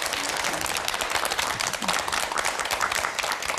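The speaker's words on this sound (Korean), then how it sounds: "큰 박수로 환영해 주십시오." Dense applause from a Korean TV studio audience greeting a guest doctor, a continuous even clatter of many hands at moderate volume throughout, without speech.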